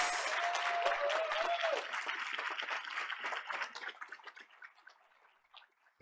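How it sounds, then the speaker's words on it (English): Applause from an audience at a school board meeting for a mariachi group, loud dense clapping that thins out and tapers to scattered claps over six seconds, with a brief tone at the start. "Let's give them another round of applause."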